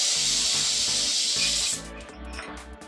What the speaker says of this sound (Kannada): ಸೊ ಈಗ ಇದು 1 ವಿಷಲ್ ಆಗಿದೆ, ಇದನ್ನು ಈಗ ಆಫ್ ಮಾಡೋಣ